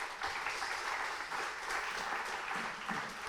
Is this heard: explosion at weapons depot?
no